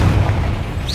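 A Confringo blasting spell detonates in Hogwarts Legacy, a deep sustained boom with low rumble filling the whole second, loud and close, with no talk.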